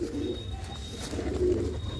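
Pigeon pairs in a loft, including a hen that has just laid an egg, coo in a low continuous rolling murmur, close and steady for the whole stretch.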